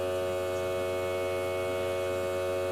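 An ANCEL automotive smoke leak tester running to pressurize its hose with air gives a steady, even electrical hum with a tonal buzz, close and unchanging throughout, with no voices.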